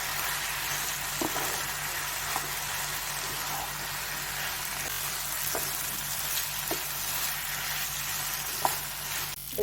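Boiled potato frying in a spice masala with a little water for raw jackfruit cutlets, giving a loud continuous sizzle with occasional stirring clicks, close and without talk.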